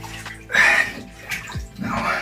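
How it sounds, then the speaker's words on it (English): Water running into a bathtub for a cold soak, bursts of splashing and gushing flow in uneven surges, close and moderately loud, with no talking. "Now I'm gonna start putting some more water in."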